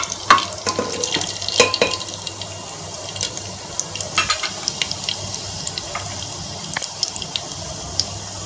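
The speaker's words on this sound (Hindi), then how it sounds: "अब उसमें मैं जीरा, राई और मेथी दाना ये तीनों मैं डालूंगी।" Cumin, mustard and fenugreek seeds crackle and sizzle in hot oil with sharp scattered pops over a steady hiss, fairly close, while a song plays faintly underneath.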